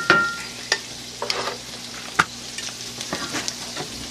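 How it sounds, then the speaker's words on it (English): Fried rice stirred in a skillet on a home stove, with sharp scraping strokes and a steady sizzle, several distinct stirs spaced across the moment, close and fairly clear with no talking. "Oh, I just come over here and stir it."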